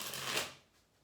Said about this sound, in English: let's give this third deck one more good shuffle